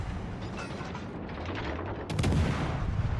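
Battleship gunfire in World of Warships: Legends, heard as booming impacts and mechanical clatter under a rumbling background, growing louder near the end.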